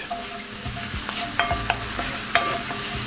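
Onions and spices frying in a pan for a Moroccan chicken tagine, a soft continuous sizzle broken by a few sharp spoon scrapes and taps as the mixture is stirred, close and moderately quiet.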